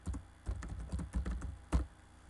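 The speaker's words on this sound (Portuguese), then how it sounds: "escrever então aqui então lista de cursos do professor Neri" Quick clattering keystrokes on a computer keyboard, bursts of close, light clicks in an uneven rhythm with brief pauses, alone without talk.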